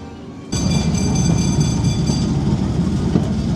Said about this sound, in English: the train was just pulling in